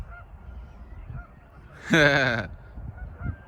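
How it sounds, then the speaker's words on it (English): Ducks call outdoors in a loud, honking burst of about half a second, standing out alone over a low, steady background hum. "That duck right there, here's them other ducks calling him."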